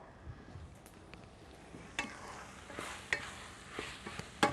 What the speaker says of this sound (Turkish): karıştırıyorum